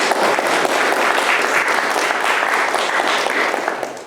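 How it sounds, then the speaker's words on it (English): An audience at a talk on India's cultural history applauds Sajid and Roji Kamal, a steady, dense wash of clapping lasting several seconds and easing slightly at the end. "Will you please applaud Sajid and Roji Kamal?"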